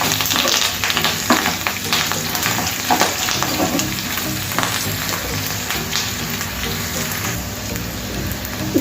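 A tempering for mango pulihora sizzling steadily in hot oil as turmeric is stirred in, with continuous crackling frying noise and occasional scraping of the spoon against the pan.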